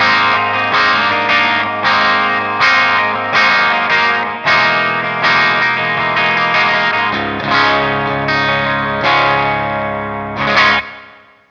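An Infinia Ceres electric guitar on the clean channel with the bridge pickup and reverb plays a sequence of ringing strummed chords, each attack decaying into a shimmering tail, loud and close, ending on a fading last chord.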